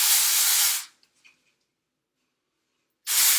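Dry shampoo sprayed onto curly hair in two loud, close hissing bursts, the first under a second long and the second starting after about two seconds of near silence.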